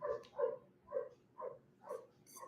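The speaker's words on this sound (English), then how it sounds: "sorry about my dog." A dog barks six times in a steady, evenly spaced series, each bark fairly faint and slightly distant, with quiet background between the calls.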